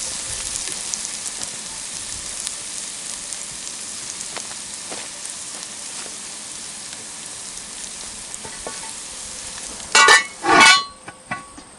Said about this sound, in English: add the hamburger. And we'll get this browning.